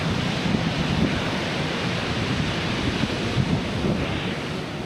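Ocean waves surge against a rocky coast at incoming tide, a steady loud wash of broadband roar with wind buffeting the microphone and no talk.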